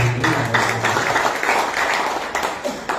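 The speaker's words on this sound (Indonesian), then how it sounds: "Berikan tepuk tangan" A church congregation at a Sunday service claps in a loose, moderate burst of applause at mid distance, fairly brief, with a faint tonal hum early on.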